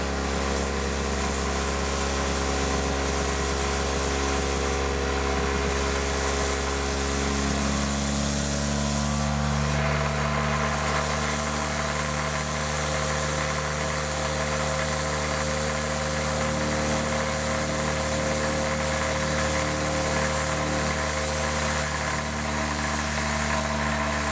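Electric motor spinning a disc steadily at about 4000 rpm, with nuts vibrating and creeping up a threaded rod; a loud, continuous close-up hum and rattle with a slight shift in tone partway through, no talking.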